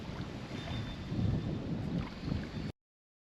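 Wind buffets the microphone at a lake during kayak fishing, a steady low rumbling gust with some water wash, cutting off abruptly at the end.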